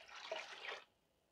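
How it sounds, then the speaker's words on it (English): A brief splash of tap water runs into a pot set up for boiling eggs, a soft bright gush lasting under a second before stopping into near quiet. "Got a little more water."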